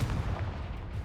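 A Confringo fire blast spell cast in Hogwarts Legacy lands as a short, booming, percussive blast. It is close and punchy, with a rumbling low end, in a brief burst with no talk.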